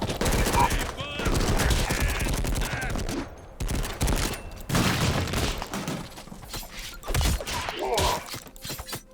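Submachine gun fire in the video game Madness: Project Nexus, rapid bursts of shots and shattering impacts in repeated clusters, loud and close, with game sound effects between the volleys.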